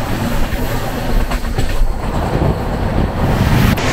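A long-distance passenger train runs through the night, heard from inside as a loud, steady rumble with rattling carriage noise and faint rhythmic wheel clatter, continuous with no voices.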